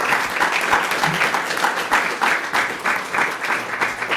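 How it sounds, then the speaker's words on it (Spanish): An audience at a talk on music and video games breaks into steady applause, a dense patter of many hands clapping continuously at moderate volume. "Así que un aplauso para Carlos."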